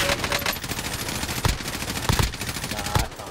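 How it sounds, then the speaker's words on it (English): Rapid automatic gunfire from a Warzone Trios battle royale match, steady bursts of machine-gun shots with a few sharper louder reports, fairly close and continuous, with faint voice chat underneath. "we're getting shot from north"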